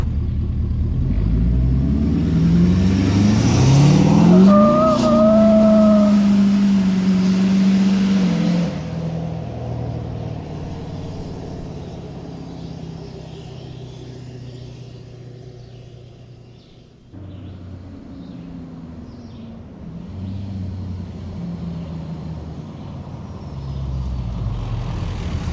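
A tuned 6.7 Powerstroke diesel pickup on 37-inch tires accelerates hard, its engine note rising in a loud, close roar before easing off into a lower, steadier drone as the truck pulls away, with no talk.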